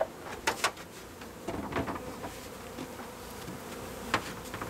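Honey bees buzz around a newly installed hive box during a package bee installation, a steady close hum with a few louder passes as individual bees fly near.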